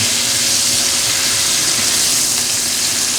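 Food sears in a hot pan with a loud, continuous close-up hiss and crackle that holds steady throughout.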